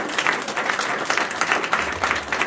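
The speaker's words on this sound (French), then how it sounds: "vous pouvez applaudir." Seated audience at a mediumship show in Salon-de-Provence clapping steadily, a dense, even wash of handclaps at moderate distance with no voices over it.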